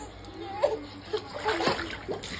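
A child swimming sends up light splashes and sloshes of water, soft and intermittent, with voices talking nearby.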